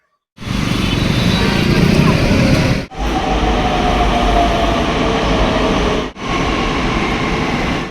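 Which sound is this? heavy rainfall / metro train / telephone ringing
metro train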